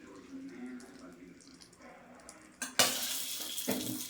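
A spoon stirs drumstick curry in a pan at home, low scraping and light sizzle at first, then a sharp burst of louder frying hiss and clatter of the pan with a second clang near the end; no one speaks over it.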